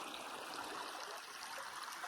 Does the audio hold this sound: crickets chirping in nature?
no